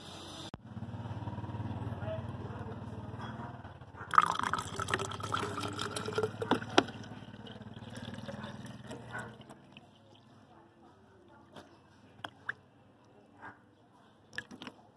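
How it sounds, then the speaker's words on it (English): Water pours into a bottle holding sugar, a steady filling gurgle for several seconds that gives way to scattered drips and small knocks as the pour stops. "I'm just going to put pure water into here."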